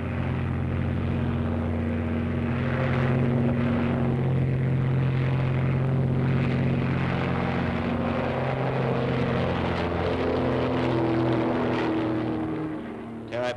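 A propeller aircraft taking off from an airfield makes a loud, steady engine drone that holds for several seconds, then eases off slightly near the end.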